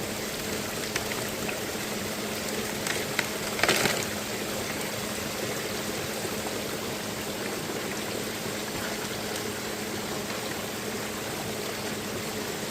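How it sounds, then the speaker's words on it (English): Water rushes steadily through a gold prospecting sluice on a cold winter day, a continuous close gurgling stream with a brief louder splash partway through and no talking. "Watch the water flow."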